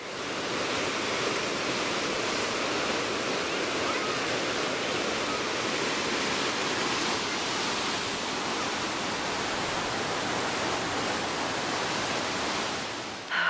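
Rushing River near Kenora roars steadily, a dense, constant wash of fast-flowing water filling the whole stretch at an even level with no pauses, nearby and unbroken.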